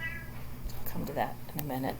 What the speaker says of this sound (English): Sorry, my cat is here. You may hear her meowing.